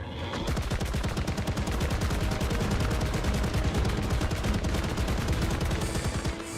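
Sustained rapid gunfire in ARK: Survival Evolved on the Fjordur map, dense automatic bursts hammering nonstop at close range and loud throughout, with no voices over it.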